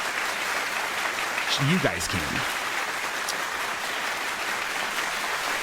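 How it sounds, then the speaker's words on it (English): A clapping sound effect is played during a comedy podcast. It sounds like a quiet, steady wash of applause running throughout, with a short spoken phrase over it near the start. "I'll do the clapping sound effect."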